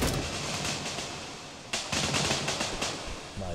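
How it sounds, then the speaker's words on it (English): Rapid bursts of distant video game gunfire crackle continuously through a noisy, dense background, with a few sharper shots standing out. "that's gunshots from that far?"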